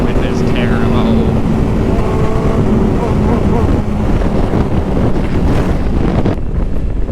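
Strong storm wind buffets the microphone in a continuous roar, loud and steady throughout, with a faint low drone underneath.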